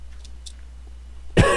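A single sharp cough bursts out near the end after quiet background and faint mouth noises, close and loud.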